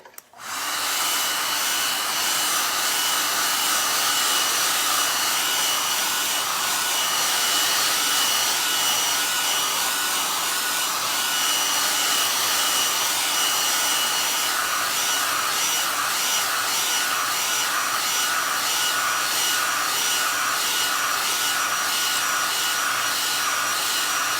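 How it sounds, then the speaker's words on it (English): A hair dryer switches on and blows steadily with a loud, constant whooshing roar that lasts throughout, with no voices. "So I'm going to take the hair dryer and give it a little"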